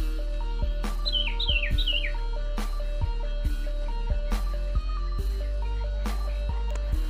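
A sirtu songbird gives three quick, loud descending whistles near the start, over steady, regular clicking taps that continue throughout.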